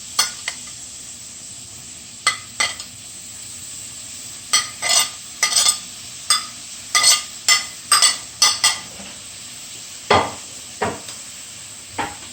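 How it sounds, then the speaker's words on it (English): Chopped onion and scotch bonnet pepper hit a pot and are stirred, giving repeated short scraping and sizzling bursts at an uneven rhythm, close and fairly loud, with no talking. "Then goes the chopped onion and the scotch bonnet pepper."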